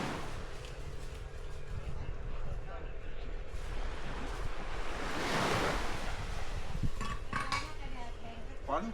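Ocean waves washing onto a beach in Thailand on a morning, a continuous broad surf roar with wind buffeting the microphone and a swelling wave in the middle, plus faint clinks and a distant voice.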